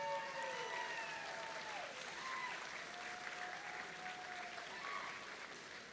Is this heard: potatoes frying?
no